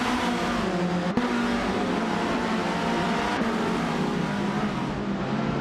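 A 1978 Metalex MTX 103C racing car engine in a racing video game drones steadily at high revs, a continuous buzzing roar with a couple of brief clicks, no talk.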